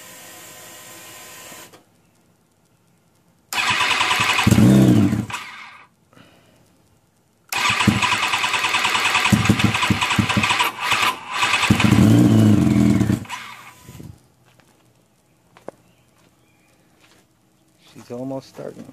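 A turbocharged Kawasaki Ninja ZX10R running a Megasquirt standalone ECU cranks loudly in two long attempts separated by silence, its starter whirring and the engine catching briefly; a person speaks near the start.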